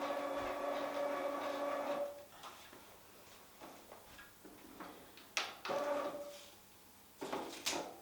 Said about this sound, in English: So it'll come straight out of the front of the printer.